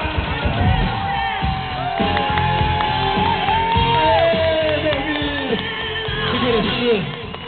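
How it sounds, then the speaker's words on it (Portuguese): A rodeo crowd in Massaranduba cheering, whooping and shouting, a dense mass of voices with sliding yells over a noisy arena background, steady and fairly loud throughout, with clapping hard to pick out. "uma salva de palmas"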